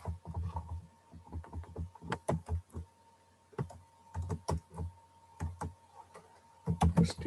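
Code is typed on a computer keyboard in short bursts of quick, close key clicks separated by brief pauses, with no talking.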